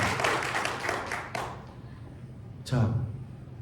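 A lecture audience at a Catholic church centre claps, with quick rhythmic hand claps near the start that thin out and fade, and a voice speaking over the end.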